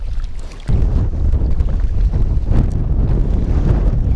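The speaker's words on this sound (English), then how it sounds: "Wind, wind, go away." Strong, steady wind roars and buffets the microphone out on a fishing boat on open water, a continuous loud low rumble that surges after a brief dip, with no talking.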